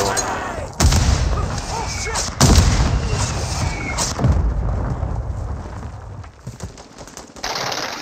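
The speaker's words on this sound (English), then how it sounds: "Friendly airstrike in the AO." A friendly airstrike in a video game sends heavy explosions booming one after another: big blasts near the start and around the middle, with rumbling aftershocks and distant crumps in between, under faint voices.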